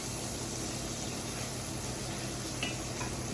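Bacon frying in a pan for a goose quiche, a steady crackling sizzle that stays even and close throughout, with no talking.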